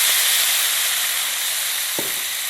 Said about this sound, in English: I'm just going to deglaze my pan with about 1/2 cup of wine